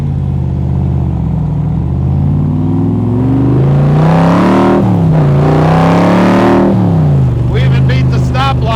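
A 1965 Shelby Cobra Backdraft engine revs up loudly and climbs through its gears, with a rising and falling engine note and brief shifts, heard from inside the car while merging into traffic.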